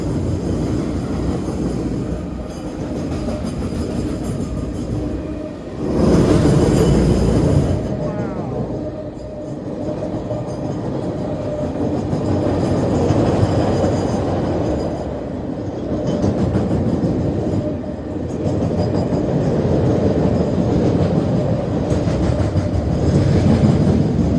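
A freight train rumbles loudly close overhead on a railroad bridge, its wheels clattering rhythmically over the tracks in a steady, heavy roar that lasts throughout.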